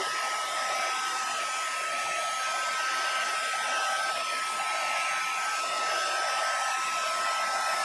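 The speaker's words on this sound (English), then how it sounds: "just grab out the heat tool. I'm just going to switch it on to let it warm up a bit." Steady, loud whooshing blower noise from an electric heat tool for card embossing, switched on and warming up, running without a break and with no voices.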